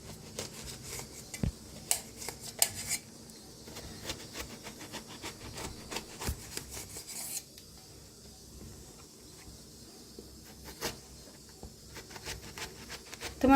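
Kitchen knife slicing black eggplant on a cutting board, giving a run of irregular close, soft taps and cuts over quiet room noise with no talk.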